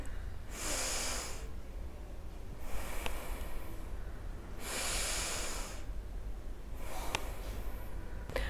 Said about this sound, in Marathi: दीर्घ श्वास सोडायचा या पद्धतीने दोन ते तीन वेळा करा